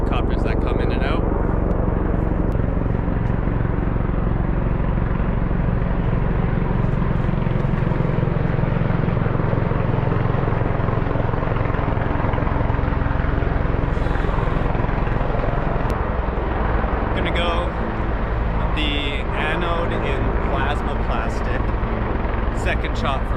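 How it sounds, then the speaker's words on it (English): Helicopter engine and rotor noise from aircraft coming in and out near Rusty Ridge disc golf course, a steady loud droning rumble throughout, with a person talking over it. "There's a lot of helicopters that come in and out."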